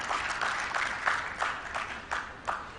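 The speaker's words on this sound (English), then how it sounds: "I think we need to applaud ourselves for this." Symposium audience on organic farming applauding, a moderate crowd clapping with a loose rhythm of distinct swells that rise and fall over a few seconds.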